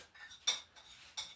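A metal utensil clinks against a bowl while seasonings are mixed, two bright ringing taps among softer scraping, close and quiet, no voices.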